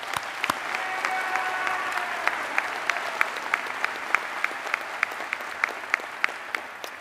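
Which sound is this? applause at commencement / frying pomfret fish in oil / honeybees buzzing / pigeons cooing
applause at commencement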